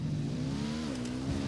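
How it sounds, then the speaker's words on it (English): A motorcycle engine in the video game Ghost Recon Wildlands hums steadily at a near, constant pitch, rising slightly and dipping near the end, with no talk over it. "I'm riding the motorcycle."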